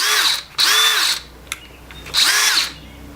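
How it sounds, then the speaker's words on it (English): A DeWalt brushless hammer drill whirs in two bursts, spinning up loudly, stopping, then running again after a short pause, close by. "I got a hammer drill."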